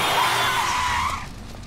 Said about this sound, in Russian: А потом меня чуть не сбила машина.